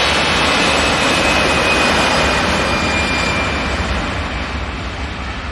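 An EasyJet Airbus A320ceo departing Manchester Airport roars with a loud, sustained broadband jet blast, steady throughout and fading slightly toward the end, with no talk.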